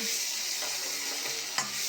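Ginger garlic paste fries in hot oil for a pigeon and bottle gourd curry, a steady close hiss of sizzling with a faint stir scrape near the end.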